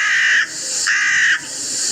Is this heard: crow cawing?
yes